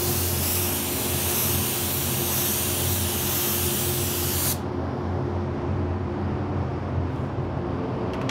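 A spray gun lays a second coat of candy gold paint, giving a loud steady hiss that runs alone and then cuts off about halfway, leaving a quieter background rumble.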